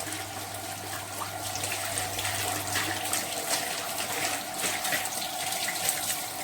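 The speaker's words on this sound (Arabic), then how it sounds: "تغسلي كده اهو بسرعه مواعينك." Tap water runs steadily into a kitchen sink while dishes are washed, a continuous close hiss of flowing water lasting throughout with no speech.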